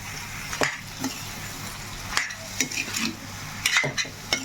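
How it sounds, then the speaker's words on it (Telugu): Sliced onions stirred into frying chicken in a pan, giving repeated sharp scrapes and clinks of a spoon against the pan over a soft sizzle, close and moderately loud. "సన్నగా కట్ చేసుకున్న ఉల్లిపాయ ముక్కలు అయితే వేసుకుందాము కలిపేస్తున్నాము"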